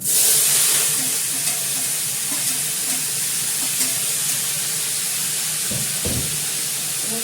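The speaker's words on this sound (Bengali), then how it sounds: "আমি ভাজাটা কালো জিরে দিয়ে করছি" Food frying with black cumin in a wok, a steady loud sizzle and hiss filling the whole stretch, with a few scraping stir sounds near the end.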